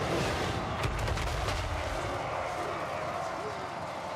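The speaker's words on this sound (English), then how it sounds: "Hear those cannons!" Cannon fire booms in a Total War: Warhammer III battle with dwarf forces. Several blasts land close together under loud battle noise, and a voice speaks over them.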